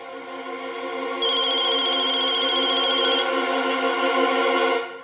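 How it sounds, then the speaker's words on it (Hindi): A phone rings with a bright electronic ringtone in a repeating pattern, close and clear, growing fuller partway through before cutting off near the end, with no one speaking. "मेरा फोन आ रहा है"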